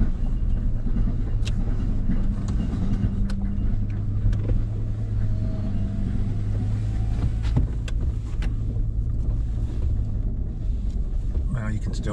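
A vehicle rolls along rough 6th Range Road, a Class 6 road in Pembroke, New Hampshire, with a constant low engine and cabin rumble, wind noise and scattered clattering knocks as people talk inside.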